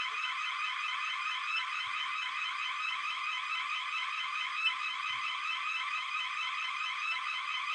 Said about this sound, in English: I think he trying to turn off his alarm for his business.